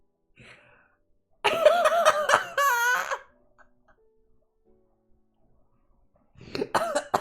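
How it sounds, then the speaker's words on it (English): A person clears their throat with a few harsh, gravelly rasps up close, followed by a quiet pause and another short vocal rasp. "Let me clear my throat, man."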